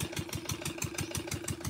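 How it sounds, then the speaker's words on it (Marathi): A Kirloskar engine powering a sewage treatment plant chugs at a steady idle, its regular low thumping pulses heard faint and somewhat distant. "तिथे किर्लोस्कर इंजिनवर STP सुरू आहे"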